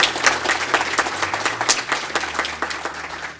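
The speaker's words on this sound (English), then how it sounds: "Let's give all of our fantastic sponsors a round of applause." A live audience at a community advocacy breakfast applauds the event sponsors, a dense, steady burst of many hands clapping that carries on evenly, with a low background hum beneath it.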